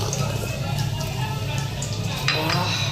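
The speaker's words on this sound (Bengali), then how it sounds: "পনির ভাজছি" Paneer frying in a pan, a steady broadband sizzle with scattered light clinks and stirring scrapes, close and continuous, with a brief louder rustle near the end.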